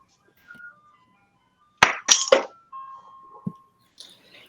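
An ice cream truck jingle plays as a faint, thin melody at a distance, broken by a few loud, sharp clattering knocks close by.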